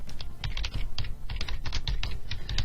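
Rapid clicking keystrokes on a computer keyboard, irregular bursts of close, light taps with no talking.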